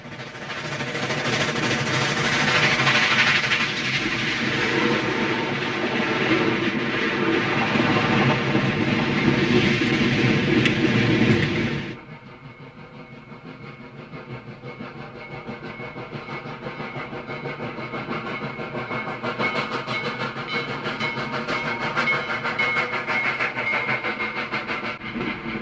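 A heavy steam locomotive rumbles past loud and close on Penn Central tracks in South Byron, New York, then the roar drops abruptly to a lighter, steady rolling clatter with a faint hiss.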